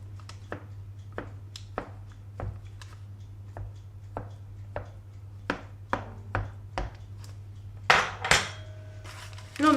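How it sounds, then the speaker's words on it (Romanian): A fork repeatedly pricks fresh pumpkin pie dough in a tray, making a steady series of sharp, close taps against the pan, with a louder clatter near the end. "Înțepăm cu o furculiță din loc în loc."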